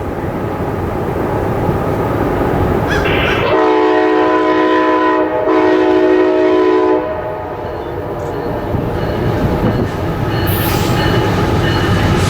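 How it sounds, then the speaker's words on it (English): A brand-new EMD ST-78H locomotive leading a westbound empty coal train at Harper's Ferry sounds its horn in two loud, sustained chord blasts over the heavy rumble and rolling clatter of the passing train. "a brand new EMD ST-78H, leading today's E73016."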